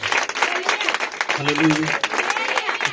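Congregation clapping during a church worship song, a steady dense patter of many hands under a voice that speaks or sings across it.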